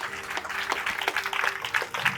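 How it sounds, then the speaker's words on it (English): A school audience at a debate competition claps, giving a dense, steady round of applause that carries all the way through. "So just give a round of applause for this channel."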